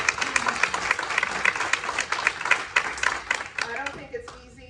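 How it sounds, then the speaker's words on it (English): An audience at a Latino Democratic Club county executive candidate forum claps for the candidates, a steady burst of many hands that tapers off near the end. "give a round of applause to these candidates"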